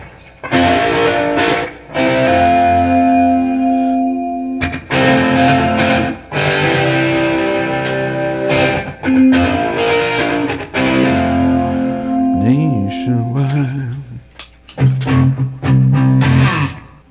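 A riff played on distorted electric guitar with slapback echo, loud choppy chord stabs and sustained notes repeating in bursts with brief gaps, no voices.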